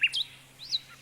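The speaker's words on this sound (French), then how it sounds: "Nous allons faire chanter nos deux rossignols ensemble" A real nightingale and a wind-up mechanical nightingale sing together: a few short, high, quiet chirps and trills with brief gaps between them.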